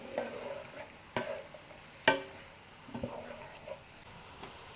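A spoon stirs a cup of chopped mixed-colour peppers in a pan while baked spaghetti is being made, giving a few sharp scraping knocks against the pan over a soft background sizzle, close and fairly quiet.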